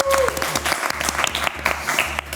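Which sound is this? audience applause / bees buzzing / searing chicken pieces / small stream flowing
audience applause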